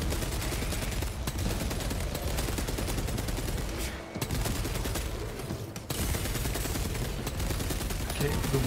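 Dense, sustained gunfire from a Space Marine 2 battle fills the scene with rapid overlapping shots and brief lulls, loud and close throughout with no voices on top.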